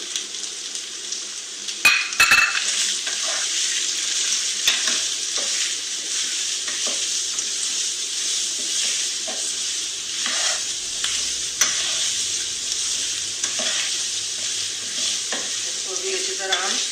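Masala beef with spices frying and being stirred in a pan, a dense steady sizzle with bursts of scraping and clinking from the spoon, loud and close throughout, no voices.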